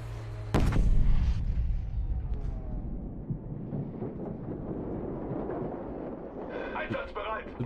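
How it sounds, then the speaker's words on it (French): Artillery fire and explosions in the Battlefield V video game: a sharp heavy blast early on, followed by continuous rumbling booms and crackling battle noise that stays loud throughout, with someone talking over it. "Tir d'artillerie."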